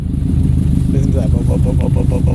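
A 2011 Subaru WRX STI engine runs with a steady low rumble and a short rising rev near the end, heard close and loud with a voice talking over it.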